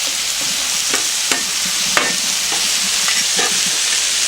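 Meat and onions sizzle loudly on a Blackstone griddle, a steady close hiss broken by several sharp spatula scrapes and taps, with no talking.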